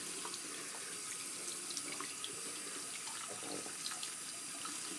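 A steady stream of running water pours from a tap into a sink, with faint splashes as a makeup brush is rinsed beneath it. No voices.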